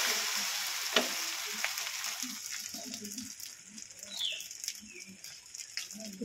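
Tomato egg paratha fries in white oil in a frying pan, a soft steady sizzle with small crackles and occasional faint birdsong in the background.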